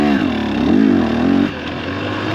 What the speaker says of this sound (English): I'm out there riding this 250XC